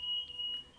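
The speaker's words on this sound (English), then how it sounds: "That's our fire alarm going off." A home smoke alarm sounds a faint, thin, high electronic tone held steady, briefly dipping, over quiet room background with no talking.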